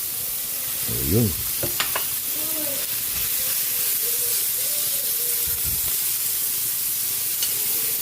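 Ground pork sizzling and frying as it hits a hot pan, a steady close hiss with stirring and scraping clatter, and a brief spoken word near the start.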